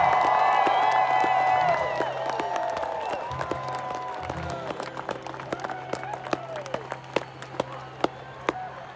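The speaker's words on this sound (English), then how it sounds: "So, everybody give Josh a big fucking round of applause" Rock concert crowd at a show in Gilford, New Hampshire, cheering and whooping loudly, then fading into scattered claps and sharp individual handclaps as the noise dies down.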